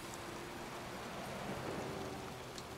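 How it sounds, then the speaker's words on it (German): Steady, fairly quiet rain hisses evenly throughout, a constant wash of falling drops with no voices, in the PS3 game Heavy Rain. "Es ist kalt, es regnet."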